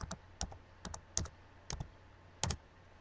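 A computer keyboard is tapped in short clusters of crisp clicks, several quick bursts spaced across a few seconds in a quiet room, with no voices.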